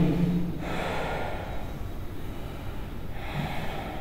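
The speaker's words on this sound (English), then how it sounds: "Observe the breathing." Slow, audible breaths of a person lying in relaxation pose after yoga practice, soft inhales and exhales rising and falling over a steady background hum with no talking.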